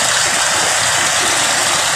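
Heavy rain pours down while floodwater rushes through a street, making a loud, dense, continuous hiss and roar that holds steady throughout.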